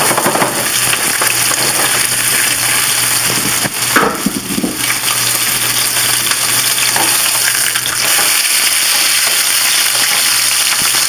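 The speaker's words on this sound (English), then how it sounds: "it just goes right over to a hot pan. We're just going to sear it and take it right out" Pork loin searing in a hot pan for a roast pork loin en croûte gives a loud, steady, close sizzle that runs the whole time, with a brief stirring shuffle partway through and no voices.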